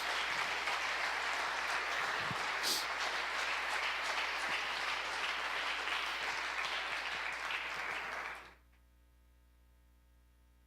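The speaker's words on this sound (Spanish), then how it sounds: "Dale un fuerte aplauso al Señor" A church congregation breaks into sustained applause during a service, dense steady clapping that holds for about eight seconds, then cuts off abruptly to near silence with only a faint low hum remaining.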